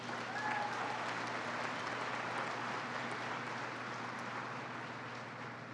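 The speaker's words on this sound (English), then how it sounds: "Please give them a huge round of applause." Sustained applause from a gala audience at an annual award dinner, a steady wash of clapping in a large hall with a constant low hum beneath it, even in level throughout.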